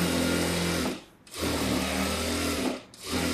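An electric sewing machine stitches a press seam on a collar-neck, front-open princess blouse, running in two steady whirring bursts separated by a short pause, close and continuous with no talk.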